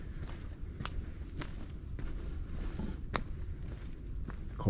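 Footsteps of a person walking on a forest hiking trail, steady paced steps with soft crunchy impacts on the ground, close and moderately quiet, with no talking.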